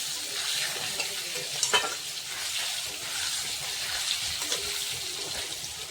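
Potatoes frying in a pan until reddish-brown give a steady close sizzle, with a few louder clinks and scrapes of stirring partway through.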